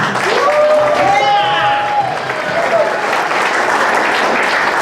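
Applause from an audience at a motivational talk show in Indonesia, broad clapping running throughout, with a bright sliding tone and some voice-like sounds laid over the first half.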